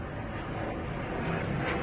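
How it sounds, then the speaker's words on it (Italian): Military jets passing over a city, heard as a steady, broad roar that fills the whole clip without pause, fairly loud and continuous, with no voices. "Tutto il giorno che passano questi aerei militari"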